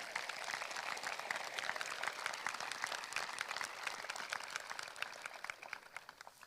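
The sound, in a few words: round of applause for teachers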